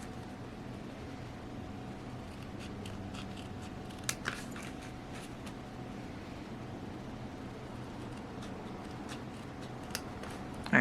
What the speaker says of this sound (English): My little scrapbook scissors.